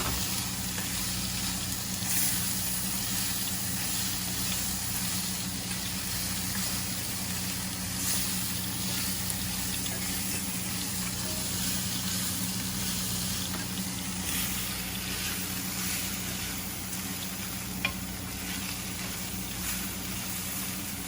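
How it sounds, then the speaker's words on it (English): Frozen fries frying in hot grease, a steady, even sizzle and crackle that holds without a break, fairly close and with no talking. "So now we got to get that temperature back up to fry the fries."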